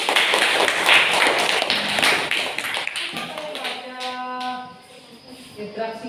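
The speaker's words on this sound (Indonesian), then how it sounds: "Kita kasih aplaus sekali lagi." Indoor audience applauding a group of teachers during a teaching performance assessment, a broad burst of clapping for the first few seconds that fades, then gives way to a sustained tone and background murmur.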